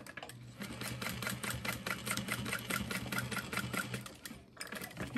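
A sewing machine stitches lining down for a small zippered wristlet, a rapid steady mechanical chatter running continuously with a brief pause near the end.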